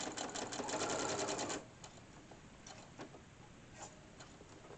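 Sewing machine stitching fabric for a teabag holder, a quick close rattling run of stitches for about a second and a half, then quiet handling ticks and clicks as the needle stays down and the presser foot pivots.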